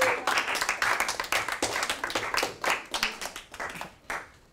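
A young man claps in a classroom, a quick run of sharp, close hand claps that sounds like brief applause, with no talk over it.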